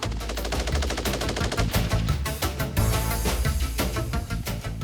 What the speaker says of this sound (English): This gun's firing rate can be set between 550 and 900 rounds per minute.